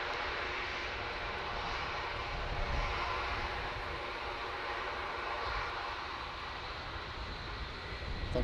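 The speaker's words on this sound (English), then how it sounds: "Just touching down behind it, we've got a Dreamliner coming in from Tenerife South" A Boeing Dreamliner arriving from Tenerife South touches down at Manchester Airport, a faint, distant, steady engine roar holding evenly throughout.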